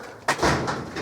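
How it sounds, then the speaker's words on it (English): A garage door bangs once in a workshop shed, a sudden loud thud followed by a rattling, echoing rumble that fades over about a second, heard alone. "That's my garage door banging again."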